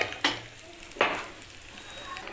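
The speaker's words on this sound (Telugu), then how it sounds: "తెరమూత వేగింది." Mango pickle tempering fries in a pan with a soft continuous sizzle and two brief sharp crackles.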